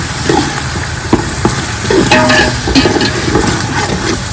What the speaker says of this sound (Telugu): కొబ్బరి మొత్తం కలిపి వేసుకొని ఇప్పుడు బ్రౌన్ కలర్ వచ్చే వరకు వేయించుకోవాలండి